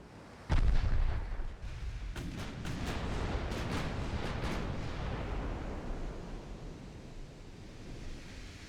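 Naval main guns on warships open fire at destroyers in the game Ultimate Admiral Dreadnoughts: one heavy boom, then a rapid cluster of sharp shots over a sustained rumbling roar like surf, loud and with no voices.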